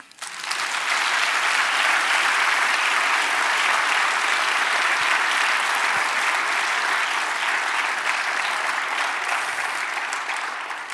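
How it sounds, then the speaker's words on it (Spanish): A church congregation applauds together during a worship service, a sustained, even wash of clapping from many hands that holds for several seconds before tapering slightly. "Den un aplauso al Señor."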